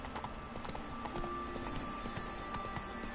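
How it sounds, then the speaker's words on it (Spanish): A horse walks through a city in The Witcher 3, its hooves making a steady, even clip-clop at close range over low background ambience. "No te deja correr, pero puedes ir con el caballo por la ciudad."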